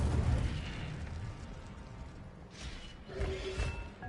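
Incendio fire spell cast in Hogwarts Legacy, low rumbling whooshes with a couple of brief fiery bursts near the end, fairly loud.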